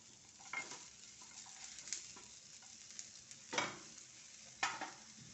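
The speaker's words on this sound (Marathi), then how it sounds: "त्याच्यामध्येच आपल्याला कांदा भाजायचा आहे" A single onion roasts in a pan with a spoonful of oil after coconut has been roasted in it, quiet and faint, with a few sharp scraping stirs standing out over a low hiss.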